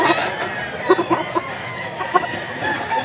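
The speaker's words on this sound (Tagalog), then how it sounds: "yan yung mga manok niya mga idol" Gamecocks at a pet market cluck in short bursts and crow nearby, several birds calling over crowd murmur.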